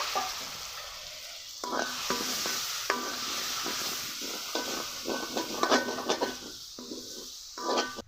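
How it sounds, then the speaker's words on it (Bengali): Spice masala of turmeric, chilli and ground spices sautéed with a splash of water in a pan for shrimp curry, a loud bubbling sizzle with repeated scraping and clinking of a spatula, close up. "একটু জল দিয়ে আরও কিছুক্ষণ কষিয়ে নিব"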